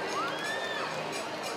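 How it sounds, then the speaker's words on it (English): A crowd at a family soapbox derby in Bideford cheers in a short, steady burst of broadband noise, with a thin whistle-like tone rising and falling over it. "Put your hands up, folks. Give him a massive cheer."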